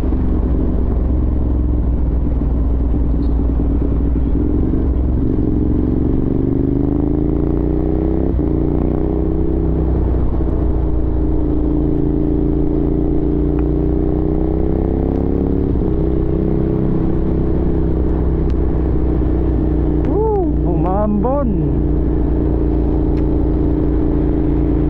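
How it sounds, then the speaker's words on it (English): A Ducati Monster motorcycle rides through rain on a Manila road, its engine a steady low rumble with shifting pitch as it revs, continuous and close throughout with faint wind and road noise. "Gamit ko tong Ducati Monster."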